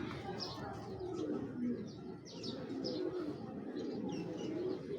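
Racing Giribaz pigeons coo in soft, repeated low calls with a few higher chirps, fairly close and steady, with no talking over them.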